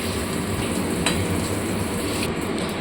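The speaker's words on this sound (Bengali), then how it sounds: "এগুলোকে ভালো করে ওপর নিচ করতে হবে, মাংসগুলোকে ভালো করে মশলার সঙ্গে মিশিয়ে নিয়ে কষতে হবে" Mutton pieces being stirred and sautéed with spices in a pan over low gas, giving a continuous close sizzle with soft scraping as the meat is turned.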